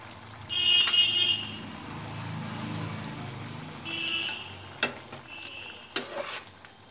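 Broccoli potato curry with chopped coriander leaves being stirred in a pan, soft sizzling with a few sharp scraping clatters from the spoon near the end.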